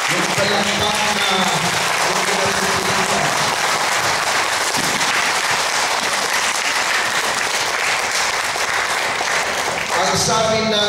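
A church congregation breaks into sustained, loud applause, a dense crackling roar of many hands clapping, with a preacher's voice audible at the beginning and again near the end.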